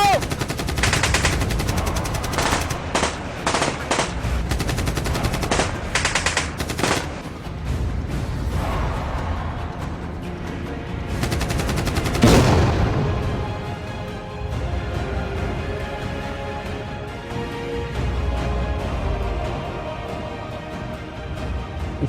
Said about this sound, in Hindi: मुस्तफा आगे ना जाओ, तू जा रहे हो, आगे फायर आ रहा है।